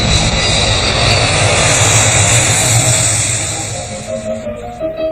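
A research aircraft flying over the ocean, its engine giving a loud, steady droning roar close by that slowly fades and thins out toward the end.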